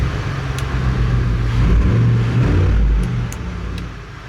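A 1979 Ford F-350 engine revving through a custom exhaust, a loud, close, deep rumble that swells into a throaty rev in the middle, then eases back down toward idle.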